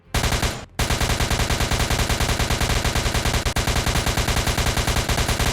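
Heavy rapid automatic gunfire from the largest gun in the ERLC roblox game, sustained loud bursts after a short opening burst and a brief pause, hammering continuously at close range.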